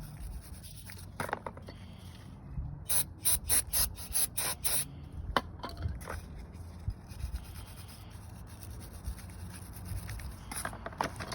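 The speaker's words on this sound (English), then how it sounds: "Take some brake parts cleaner, wire brush, scrub in a little bit." Brake parts cleaner hisses from a spray can onto Honda Civic brakes, coming as a cluster of short, quiet bursts mixed with scrubbing, then fading into faint rubbing.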